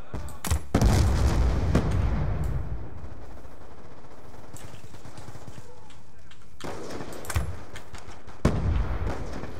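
Gunfire in a Call of Duty: Black Ops II team deathmatch, with loud bursts of shots near the start and again toward the end, separated by a quieter stretch.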